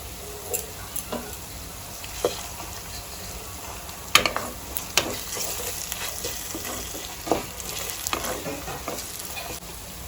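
Garlic paste frying with browned onions in a pan, a continuous soft sizzle under repeated scraping and stirring strokes of a spoon, with a few sharper clatters, close up and without talk.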